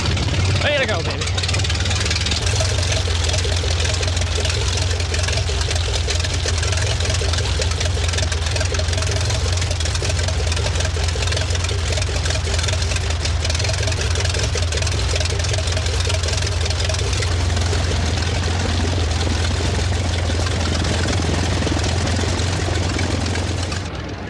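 A vintage aircraft piston engine runs after starting, a loud, steady, throbbing drone that lasts throughout. Voices call out over the engine noise.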